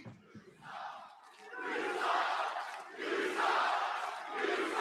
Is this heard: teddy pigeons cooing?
no